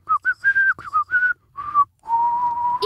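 A person whistles a short tune in quick separate notes, then holds a long steady tone, close and clear with nothing else behind it.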